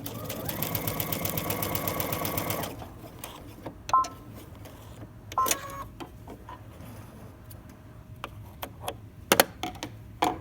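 A domestic sewing machine runs a straight stitch on woven fabric in a steady rapid whir for about three seconds, then stops, leaving scattered clicks and small taps.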